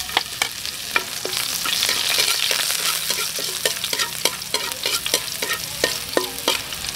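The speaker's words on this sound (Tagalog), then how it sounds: "Start na po tayo sa paggisa. Bawang." Steady sizzling of garlic sautéing in a hot pan, with frequent scraping clicks of a utensil stirring through it, close and continuous.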